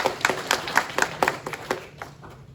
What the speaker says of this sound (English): I'd like to give them a round of applause before we dismiss.